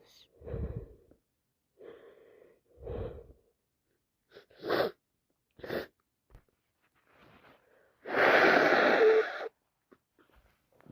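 Wet sneezes from a person with a cold come as several short breathy bursts and snorts, quiet and close, followed by one long loud spray-like blast.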